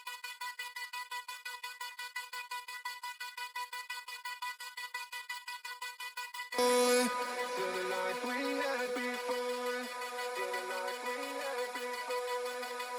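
An octave-up frozen reverb vocal pad throbs in steady rapid pulses from an LFO on its volume, then a fuller electronic music arrangement bursts in and carries on beneath it.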